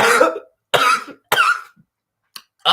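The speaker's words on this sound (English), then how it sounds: "it gives me a fucking coughing fit" A man has a coughing fit, four harsh, close bursts of coughing separated by short silences, the last one cut short, with a faint throat-clearing sound between them.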